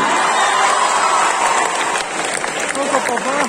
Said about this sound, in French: Et je vous demande d'applaudir bien fort le personnage de Dazai Osamu.